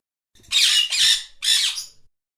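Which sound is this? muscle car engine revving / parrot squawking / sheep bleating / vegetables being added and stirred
parrot squawking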